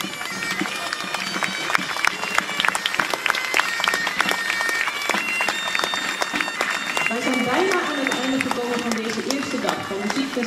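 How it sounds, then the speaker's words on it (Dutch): A large crowd at the Taptoe Delfzijl 2022 music festival claps for the musicians, loud and continuous for the whole stretch. A voice speaks over the applause, and later a few people whoop and shout. "Geef de muzikanten nogmaals een daverend applaus"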